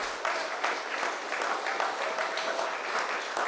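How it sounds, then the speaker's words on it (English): Applause from a townhall audience at St. Patrick Anglican School, honoring a political leader and candidates; steady, dense clapping fills the whole stretch at moderate loudness, with no voices over it. "I want to first start off by giving a huge round of applause to the political leader and the candidates"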